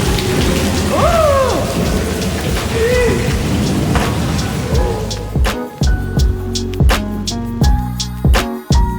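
Rain falling inside a long canal tunnel, a dense echoing wash of water, with big drops splashing loudly and irregularly onto the water and surfaces near the end.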